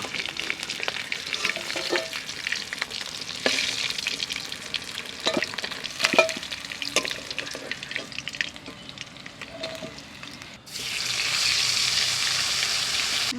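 Pieces of shol fish fry in hot oil with a continuous bright sizzle punctuated by clicks and scrapes of stirring, then the sizzle surges louder near the end.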